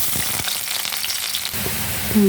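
Loud, steady sizzling of onions frying in hot oil in a kadai, a dense crackling hiss that continues without a break.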